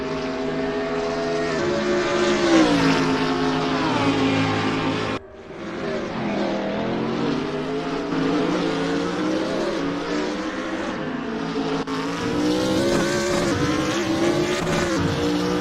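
A BMW Z4 race car engine in a racing video game, howling loudly and steadily with rising and falling pitch through gear changes, one brief cut midway, no talk.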